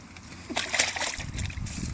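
Muddy pliers rinsed off in water, a couple of close splashes and sloshes in quick succession, with a faint voice in the background.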